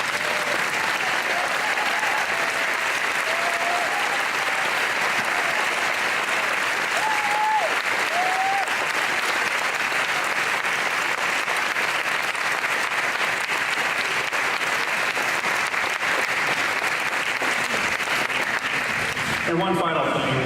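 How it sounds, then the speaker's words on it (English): A graduation audience at St Johns gives sustained, loud applause for returning old boys who stand, the clapping dense and continuous for the whole stretch, with faint voices and brief whistle-like cheers mixed in. "let's give them a round of applause"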